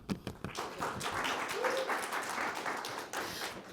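Audience applause welcoming a panel, with scattered claps building into a steady, moderate-level round of clapping that carries evenly throughout with a faint voice briefly showing through.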